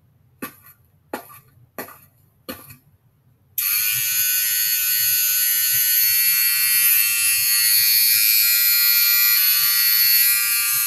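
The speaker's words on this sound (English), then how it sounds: "Let's shave all your parents' hair off to teach them a lesson." Cartoon electric hair clippers give a few sharp clicks, then start up into a loud, steady buzz as they shave hair off in an animated scene.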